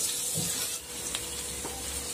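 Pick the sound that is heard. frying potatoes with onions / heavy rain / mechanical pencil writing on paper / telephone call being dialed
frying potatoes with onions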